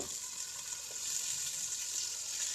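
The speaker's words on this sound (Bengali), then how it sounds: "এরপরে আমি গরুর গোস্তগুলো এক এক করে দিয়ে দিব" Beef pieces with chopped ginger and pepper fry in a hot wok, giving a faint, steady sizzle that continues alone throughout.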